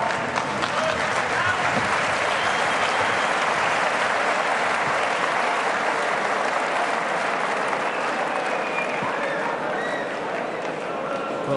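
A dense boxing arena crowd at a heavyweight bout cheers and applauds continuously, a loud, broad roar of clapping and shouting that holds steady throughout.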